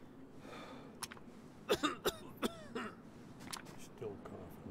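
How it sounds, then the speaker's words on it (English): A few short, sharp coughing bursts clustered together, from a player of the survival game DayZ on the Chernarus map, standing out over a low background. "still coughing."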